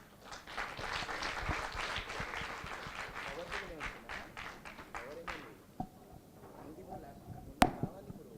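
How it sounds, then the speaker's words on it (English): Audience applause at an event rises quickly and continues for several seconds, then thins into a few scattered claps and fades out, followed by faint room noise and a sharp knock. "With a round of applause"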